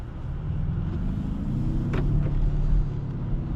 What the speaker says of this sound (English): Very interesting sound with the hybrid.